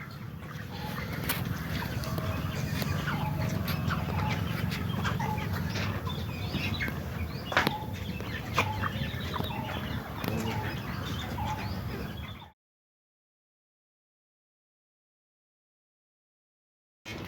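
Chickens cluck and rustle on a poultry farm, a steady dense murmur of birds with occasional sharper calls and wing flaps, running continuously before cutting to silence near the end.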